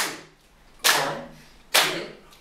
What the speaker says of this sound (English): We clap with certain rhythm.